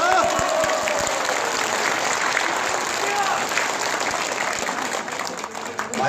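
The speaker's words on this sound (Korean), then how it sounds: "한 번 더 박수 쳐주세요." A crowd at a political rally claps in sustained applause, a broad continuous wash of hands at moderate distance with faint voices and calls mixed in underneath.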